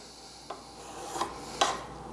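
A burnisher is drawn along a card scraper edge to raise a burr, giving three short, scraping metal swipes at a steady pace over quiet background.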